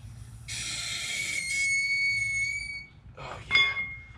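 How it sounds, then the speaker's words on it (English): A lifted Jeep's car jack being let down during suspension work gives off a loud, high-pitched whistling squeal that holds for about two seconds, then a second, shorter squeal follows. "I'm actually gonna let the jack down a little bit on this one."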